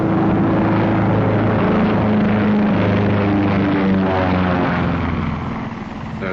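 A Flying Fortress bomber flies overhead, a loud, sustained droning roar of piston propeller engines with steady throbbing tones that eases slightly at the end.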